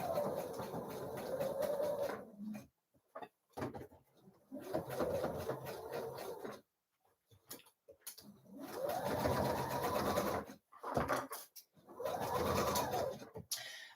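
A sewing machine stitches from the shoulder-seam pivot point of a dress with the collar facing up, running in several steady bursts of a few seconds each, separated by short pauses.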